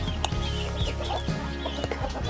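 Chickens clucking up close, several birds chattering over a steady low hum.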